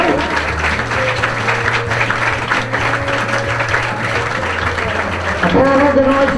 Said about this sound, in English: if we can have also a nice round of applause for our runner-up, Moore's Youth, Paul Hunt.